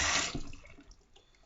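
A brief gush of running water from a tap rinses a shaving brush, loud at first and then trailing off into faint drips.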